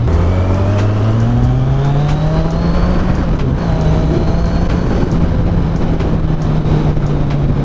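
A Kawasaki Ninja 1000 motorcycle engine runs in full riding mode while on the move, a loud continuous drone with a steadily climbing then holding pitch and heavy wind rush.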